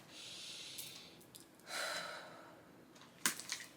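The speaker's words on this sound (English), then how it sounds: "Take a deep breath." A deep breath drawn close to the microphone, soft airy inhalation swelling and then released, with a small snort-like puff near the end and no talking.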